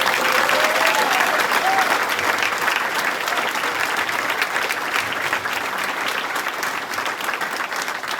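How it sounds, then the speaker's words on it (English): An audience at a fire academy graduation breaks into sustained applause, a dense, even wash of clapping that holds steady throughout and fades slightly toward the end. "Please, everybody, give a round of applause to these people."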